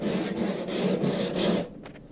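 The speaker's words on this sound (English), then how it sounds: "enough chatting, more sanding" Rhythmic back-and-forth rasping of sandpaper on wooden boat planking, several close strokes in a steady pattern, then it stops.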